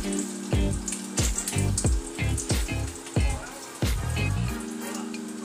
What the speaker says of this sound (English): let me get the last of my bacon off of the griddle